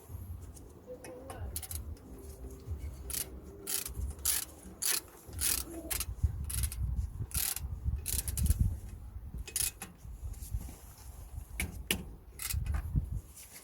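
A ratchet clicks in quick bursts as the bottom brake caliper bolt is tightened on a Mercedes-Benz GLB 200 X247 during a front brake pad replacement. The rapid metallic ticking is close and repeats in short runs with pauses between them.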